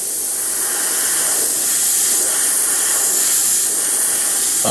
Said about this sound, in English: I'm spraying Alclad Steel